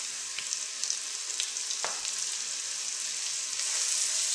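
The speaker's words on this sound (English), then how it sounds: "sizzle and take a little bit of colour on the onions" Finely chopped onion and spice seasoning sizzle steadily in hot olive oil, a dense continuous crackle with small pops, close and alone, swelling slightly toward the end.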